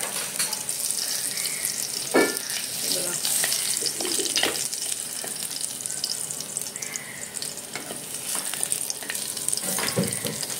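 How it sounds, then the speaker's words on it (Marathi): Garlic fries in a pan for a Maharashtrian fish curry, giving a steady, close sizzle with occasional stirring scrapes. No one speaks. "लसूण गोल्डन ब्राउन होऊ दे।"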